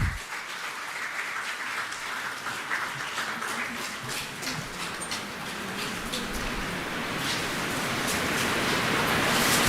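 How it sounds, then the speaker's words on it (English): An audience at an international engineering conference breaks into a round of applause, dense steady clapping that swells and grows louder toward the end with no voices over it. "A big round of applause,"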